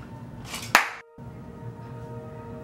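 A single sharp hand clap rings out close by, a brief crack followed by a short silence and then a quiet room tone.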